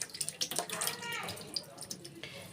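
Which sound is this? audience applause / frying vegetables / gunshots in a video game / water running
water running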